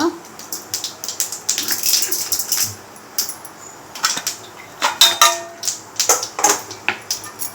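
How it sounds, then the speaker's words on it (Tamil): Mustard seeds, urad dal and chana dal frying in hot oil for masala dosa filling, with sharp irregular crackles and pops spread across the whole stretch, fairly close, alongside light clinks of a utensil. "எண்ணெய் காஞ்சிருச்சுமா வந்து கடுகு போட்டுக்கலாம் உளுந்து ரெண்டு போட்டுக்கலாம் கடலப்பருப்பு அதையும் அதில் போட்டுக்கலாம்மா"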